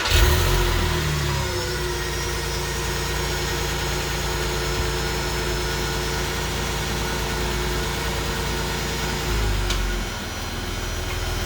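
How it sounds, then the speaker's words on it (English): A Porsche 996 911 engine idling low and steady as the car creeps up onto ramps, with a small throttle blip at the start and another near the end, close and alone without talk. "Now let's bring the car up on the ramp."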